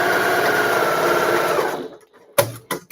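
Sewing machine running at steady speed while stitching patchwork for an upcycled embroidered tote bag, a loud continuous whirr that stops abruptly and is followed by a couple of sharp mechanical clicks.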